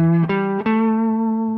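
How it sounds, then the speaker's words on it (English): Sustained electric guitar notes, a held tone that shifts pitch twice to the blues flat five with small pick attacks, ringing bright and slightly overdriven, close up. "The sharp 4 or flat 5 note is what we're looking for"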